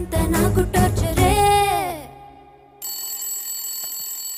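A phone rings with a loud electronic ringtone, bright repeated tones that cut off and give way to a steady high electronic tone.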